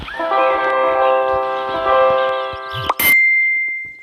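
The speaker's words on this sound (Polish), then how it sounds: "Kurde, SMS przyszedł." Text message notification chime on a phone, a sharp bright tone that rings out briefly at the end, following a sustained metallic ringing clang and a few soft knocks in a room.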